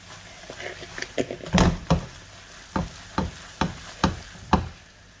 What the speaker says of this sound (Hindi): इसे हमें भूनते हुए मीडियम आंच पे तकरीबन 10 से 12 मिनट हो गए हैं